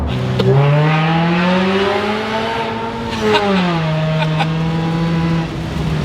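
A supercharged Mazda 3 accelerates hard through the gears, its engine note climbing, dropping briefly at a shift, then pulling again, loud and close from inside the car with no talking.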